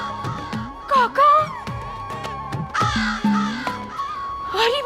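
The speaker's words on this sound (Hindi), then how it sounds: "कौवे," Several crows caw loudly and repeatedly, harsh calls overlapping in irregular bursts close by, with no speech.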